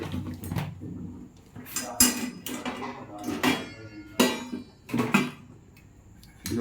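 Metal clatters against a biryani pot in a small bachelor-room kitchen as the lid goes on, a series of sharp clanks and scrapes at close range, separated by quiet gaps.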